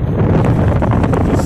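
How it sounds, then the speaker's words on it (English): Strong gusty wind roars across the microphone on a boat during a bay fishing trip in winds of about 17 mph, a loud continuous low rumble with no talk. "It's super windy out here."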